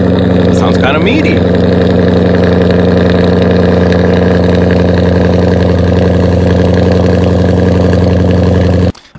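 A Genesis 5.0 V8 with mid resonator delete and quad exhaust tips idles loud and deep with a steady throbbing burble, close to the microphone, before cutting off at the end.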